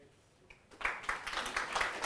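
Applause from a lecture audience at the end of a physics lecture, clapping swelling in after a quiet moment and continuing steadily, moderately distant.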